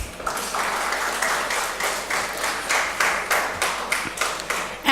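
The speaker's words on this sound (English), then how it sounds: "So a big clap for all of you." An audience claps for students at a cultural tourism event, a steady run of roughly rhythmic, unison claps at moderate loudness, fairly close, with no talking over it.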